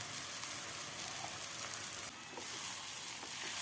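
Steady sizzling as poha is tossed into turmeric in a hot pan, a soft continuous frying hiss with faint stirring, quiet and without talk.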